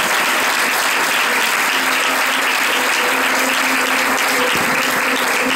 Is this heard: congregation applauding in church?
yes